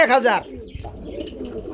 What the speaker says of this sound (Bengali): পাগলের মতো ডাকে ভাই এটা আবার কি কবুতর গো ভাই